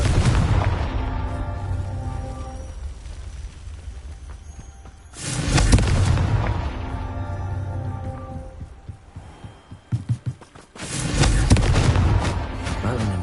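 Confringo spell explosions in the Hogwarts Legacy game, with three loud booming blasts that each burst and decay in a long rumbling roar, separated by quieter stretches of crackling and a few sharp pops.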